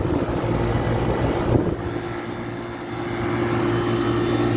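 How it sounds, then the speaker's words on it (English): A residential air conditioner with a reciprocating compressor runs outdoors beside other units, a steady close hum with a constant tone and a brief dip partway through, no talking. "Whatever reciprocating compressor it has, it sounds quite nice."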